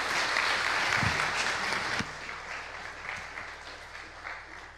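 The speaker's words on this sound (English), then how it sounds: "So give him another great applause." An audience claps steadily, loud at first and gradually thinning out and fading over a few seconds.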